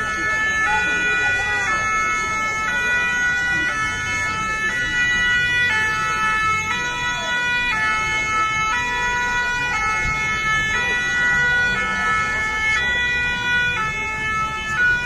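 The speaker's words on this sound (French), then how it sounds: "Les pompiers." Emergency vehicle sirens wail steadily at a street protest against pension reform in Bastia, fire engines among them, with a loud repeating two-tone pattern over constant crowd and traffic noise, with faint voices mixed in.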